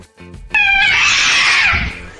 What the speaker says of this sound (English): Wow, that is one crazy cat, kids.